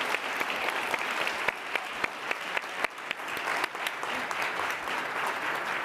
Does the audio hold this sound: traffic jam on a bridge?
no